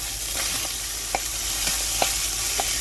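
Garlic and onions fry in a hot skillet with a loud, continuous close sizzle, while a wooden spoon stirs them with a few soft scrapes and taps.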